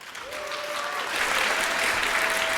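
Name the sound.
audience applause for the speaker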